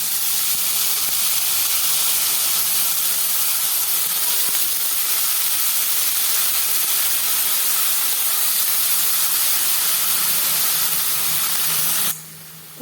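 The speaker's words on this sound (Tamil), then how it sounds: "இப்போ கட் பண்ணி வச்சுருக்க வாழைத்தண்டை நம்ம சேர்த்துப்போம்." Chopped banana stem and onions sautéing in a pan give a loud, steady sizzle and hiss that runs unbroken, then drops off abruptly near the end.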